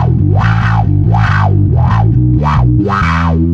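A bass guitar runs through a Wilson 12-position wah with overdrive placed before it, giving five loud, gritty notes with a sweeping vowel-like wah rising and falling on each one, close and alone.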